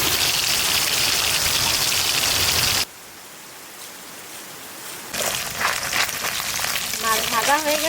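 Hilsa fish frying in a pan of oil gives a loud, steady sizzle, breaks off into quiet, then returns with crackling and a few faint voices toward the end.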